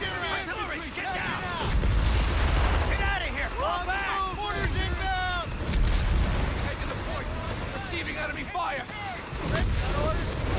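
Gunfire and artillery booms from the Company of Heroes 3 video game in a US forces 3v3 battle, with dense bursts and heavy thumps rolling throughout, under shouted soldier callouts and radio-style chatter.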